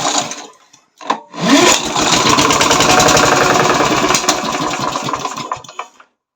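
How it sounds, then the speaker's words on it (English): A generator engine on a DIY three-phase generator cranks, catches and runs with a rapid steady chugging, loud and close, before sputtering and cutting out as it runs short of fuel. "generator engine on"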